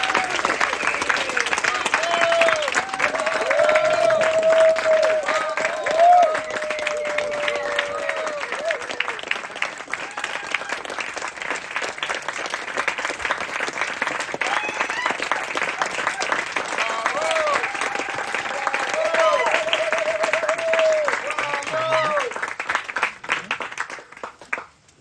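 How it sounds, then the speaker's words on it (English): A large audience at an anniversary gathering gives sustained applause. The dense clapping fills most of the stretch, swells and eases, and fades out at the end. A voice briefly carries over the crowd. "Can you give this guy a huge round of applause?"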